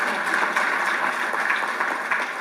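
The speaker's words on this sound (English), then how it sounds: "You can give me a good clap." An audience claps and applauds at a gathering of Kenyans living in Botswana, a steady dense patter of many hands, loud and close, with no break.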